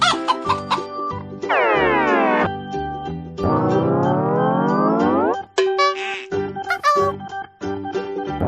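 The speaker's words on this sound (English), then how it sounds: "Chicken." A chicken clucks loudly and close in a farm-animal sound sequence, short clucks broken by two long drawn-out squawking calls, with no talk.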